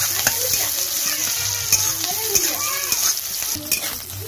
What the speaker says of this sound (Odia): ପ୍ରଥମେ ପିଆଜ ଟିକେ ଡାଙ୍ଗେଇ ଦେବା, ଏଭଳି କରିଦେବା ଯେ ପିଆଜ ଫୁଲି ଯାଉ।